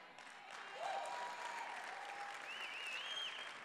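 A church congregation claps together in a steady, fairly faint wash of applause, with a voice speaking over it.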